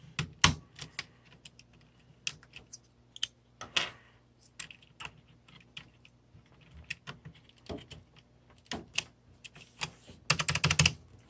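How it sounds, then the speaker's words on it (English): Keycaps pried off a Das Keyboard 5Q mechanical keyboard with a keycap puller, scattered sharp plastic clicks and clacks up close, ending in a quick rattling flurry. "The keycap puller just sticks on there pretty easily, which makes pulling keys off very easily and efficiently."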